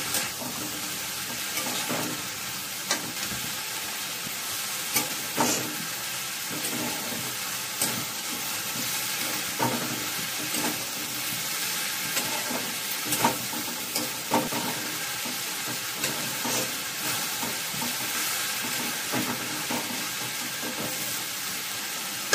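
Masoor dal paste frying over raised heat in a pan, a dense continuous sizzle punctuated by regular spatula scrapes and taps as it is stirred, close and fairly loud, no voices.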